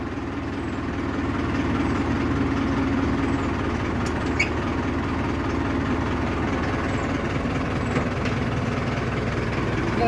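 Steady engine drone of a Mahindra Arjun Novo 605 tractor working with a rotavator on a farm field, a continuous low rumble idling and running without a break, fairly loud and close throughout.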